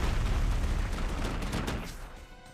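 Rumbling blasts and sharp cracks from an airstrike in the Metal Slug Tactics video game, loud and dense at first, then slowly tapering off.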